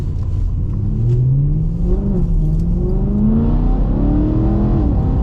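A BMW E92 M3's 414-horsepower S65 V8 revs loudly and continuously, its engine note sweeping up and down through several rises and falls, with no voices.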